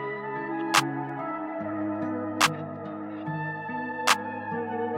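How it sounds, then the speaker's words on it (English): A simple clap pattern over a sampled music loop, with three sharp claps spaced at even intervals about every 1.7 seconds riding above a steady melodic bed of sustained tones. "So we're just putting on a simple clap pattern to start off with."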